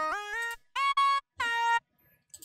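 Three loud, brassy trance synth lead phrases with EQ applied, with pitch slides, separated by short gaps, then a brief burst at the end.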